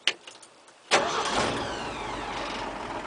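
A 1967 Ford 300 straight-six is cranked and fires up. A brief click comes first, then the engine catches sharply and settles into a loud, steady run close by.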